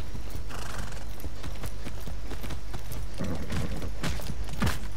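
Steady clip-clop of horse hooves in a video game, with a loud whinny near the end, over a constant background rumble.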